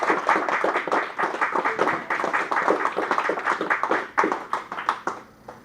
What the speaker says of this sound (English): I'd like to give them a very good round of applause